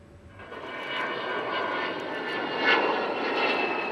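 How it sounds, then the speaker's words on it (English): An Avro Vulcan bomber at a British air show on its final tour, its engines giving a loud, sustained roaring howl that swells and peaks as the aircraft passes. "They came to see the Vulcan's fine lines and hear its unique howling noise."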